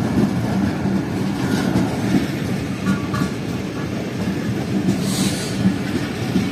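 Pakistani passenger train, the 45UP Pakistan Express, running on rails after floods, with a steady rumbling roll and faint wheel clatter throughout, fairly close and unbroken.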